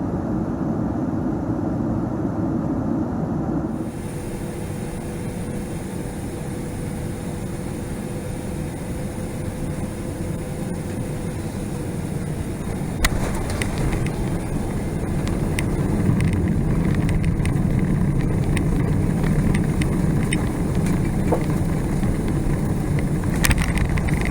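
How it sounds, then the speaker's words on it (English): Qatar Airways Boeing 777-200LR touching down and taxiing at Doha, heard from the cabin as a steady low roar and rumble that swells and grows rougher after the touchdown thump, with clunks and rattles during the roll. "We had a relatively smooth landing in Doha where we taxied for another 10 minutes before reaching our remote stand."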